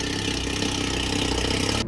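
A Porsche 911 GT4 with a custom titanium exhaust runs with a steady, throaty engine drone at close range, even and sustained with no speech.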